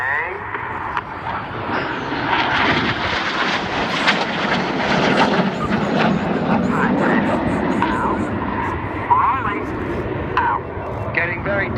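Red Arrows jets roar overhead at an air show during the Twister manoeuvre, a broad rushing engine noise rising and lingering while a commentator talks steadily over it.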